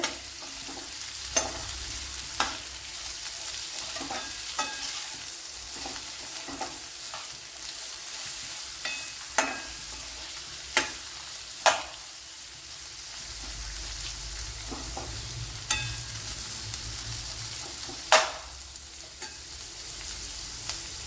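A large onion fries with salt in a pan for a Kerala-style bean and cauliflower curry. A continuous close sizzle runs under regular sharp clinks and scrapes of a spoon stirring against the pan, and no one speaks.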